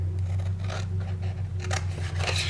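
Scissors snipping through fabric for a wine bottle cover, a steady run of close, crisp cutting scrapes over a strong low hum, without talk.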